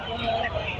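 Hens clucking in a busy weekly market in Ranipet, India, the calls mixed with crowd chatter and nearby voices, moderately close and fairly continuous.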